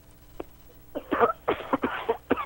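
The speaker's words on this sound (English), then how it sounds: "My cough button hit my fart button." Sound-effect button playback of a burst of coughing, several short harsh bursts in quick succession, close and fairly loud, with no talking, on a wrestling sports radio show.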